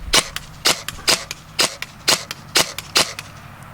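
A G&G Cobalt Kinetics BAMF airsoft gun fires eight sharp, snappy single shots at a fairly even pace, each one close and loud against a quiet background.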